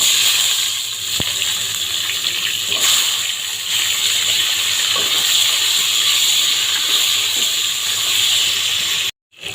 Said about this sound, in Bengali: এখন আমি তেলে বেগুনটা আর আলুটা দিয়ে নেবো ভেজে নেবো